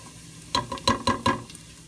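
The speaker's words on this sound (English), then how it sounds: "Okay, garlic's getting brown there." Garlic browning in a hot pan gives a low sizzle, with four sharp scraping stirs of a utensil close by and no talking.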